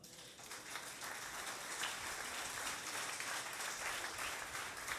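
A church congregation on its feet gives an offering of applause during a worship service: a faint, distant, continuous patter of many hands, steady throughout.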